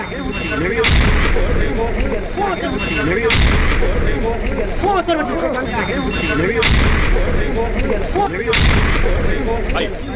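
Several heavy booming blasts at irregular intervals, loud and sharp, with rumbling noise and faint voices between them.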